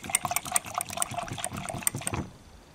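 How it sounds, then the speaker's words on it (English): Washing-up liquid swished around in a container of water, a busy run of small splashes and sloshing close by that stops abruptly near the end, with no voices. "I'm going to add my washing up liquid. I'm just going to swish that around a bit."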